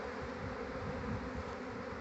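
Honey bees buzz around a swarm in a dense, continuous drone that stays loud and even throughout, with no voices.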